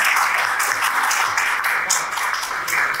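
An audience at a Uyghur independence movement assembly claps to welcome the Istanbul head of the Uyghur Women's Union to the stage, a dense, loud, continuous wash of applause with no voices over it.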